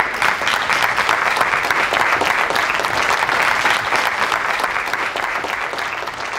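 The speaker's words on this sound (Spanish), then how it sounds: "Por favor, aplausos." An audience at an evening diploma ceremony applauds steadily, with dense, continuous clapping that stays loud and even from start to finish and tapers only slightly at the very end.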